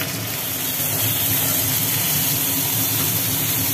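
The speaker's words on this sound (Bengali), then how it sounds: "সেই লাঠা মাছটা এখন ভাজা হচ্ছে।" Live lata fish fry in a pan with a loud, steady, continuous sizzle and hiss up close, unbroken for the whole stretch and without talk.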